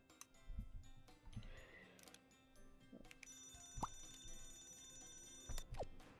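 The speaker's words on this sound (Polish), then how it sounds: "Pomóż mi przetestować te wszystkie alarmy." Alarm sounds being tested in the Scribblenauts Unlimited video game: a string of electronic ringing and beeping tones, including a sustained ringing stretch, plays loudly with no talking.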